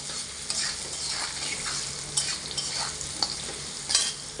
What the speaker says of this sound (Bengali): সেই জন্য আমি আগে আলুটা কিছুটা ভেজে নেব